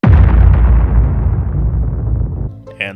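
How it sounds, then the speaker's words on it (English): A bomb goes off in the game Elsword with one loud, booming blast that rolls on and decays for over two seconds, then a short electronic chime as the noise cuts out. "Drop the bomb, Luna!"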